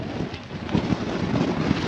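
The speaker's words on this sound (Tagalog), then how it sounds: "Talagang ang hangin. Sobrang lamig dahil sa hangin." Strong wind buffeting the microphone in a dense, rumbling roar with gusty surges, no voices, near a glacier in Iceland.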